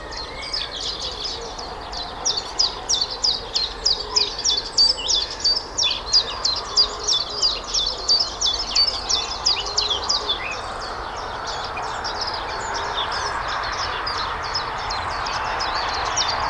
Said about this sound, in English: take a few moments with the sounds of the birds